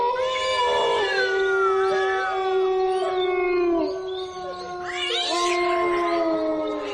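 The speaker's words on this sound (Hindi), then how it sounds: "रात 12 बजे कुत्ते, बिल्ली व सियार के रोने की आवाज आने लगी।" Dogs, cats and jackals howl and wail together at night in long, sliding, overlapping tones, loud and close, with cat-like yowls weaving through dog-like howling.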